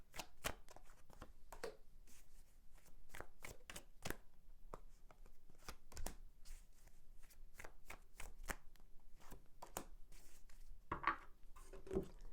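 Tarot cards shuffled by hand in a steady run of sharp riffling flicks and soft slaps, close and fairly quiet, with a brief pause midway and no talking.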